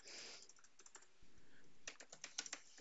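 Rapid keystrokes on a computer keyboard, a burst of close clicks followed by quieter irregular taps, then a few sharper louder strokes near the end, with no voices.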